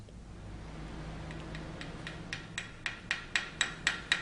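Slag being chipped off a fresh arc weld on a stud and nut, a series of small, sharp metallic taps that come faster and louder toward the end over a low background hum.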